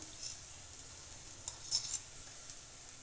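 A sweet cooking in ghee in a pan, stirred with a spoon: a soft, steady sizzle runs throughout, with a few light scrapes and taps close by, fairly quiet and with no voices.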